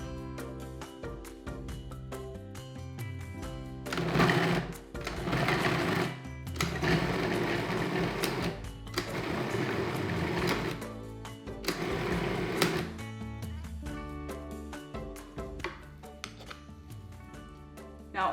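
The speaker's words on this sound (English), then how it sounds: "freezing the meat first really helps to break it up more evenly when you're using the food processor" A Cuisinart food processor chopping partly frozen meat: repeated bursts of a whirring motor with a rough, churning grind, each burst a few seconds long and separated by short pauses, heard close and loud over soft background music.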